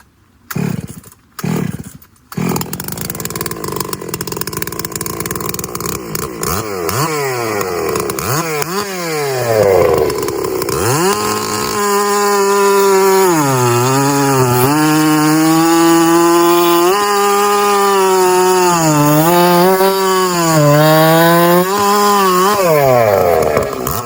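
A chainsaw with a freshly sharpened chain starts with a few pulls and then cuts through wood, its loud engine rising and falling as it revs and bogs under load.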